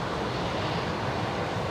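A Qantas airliner in from Sydney is on short final at Brisbane Airport, a continuous, even roar that holds steady throughout, with no voices.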